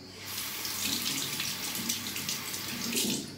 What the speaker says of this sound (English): you can just wet it under the water.